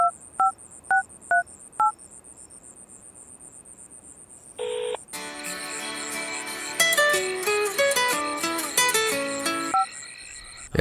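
A telephone number is dialed on a keypad, a quick run of five clear beeping tones, followed by a single short tone and then music.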